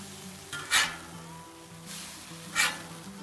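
Grilled sourdough breakfast sandwiches sizzle steadily in a hot pan, with two or three sharp bursts of louder frying as they are flipped, close and clear with no talking.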